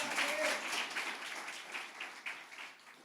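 Scattered, fairly faint clapping from a lecture audience rises in uneven bursts and then thins out over a few seconds.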